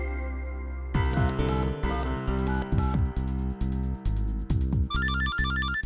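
A phone ringtone plays over a loud musical background, a repeating electronic melody with a brighter chiming pattern near the end.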